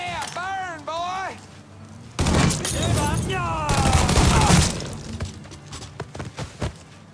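Heavy gunfire bursts from the Mafia III video game, a dense volley of loud, rapid shots followed by scattered sharp single cracks, with game characters' voices shouting before and between the firing.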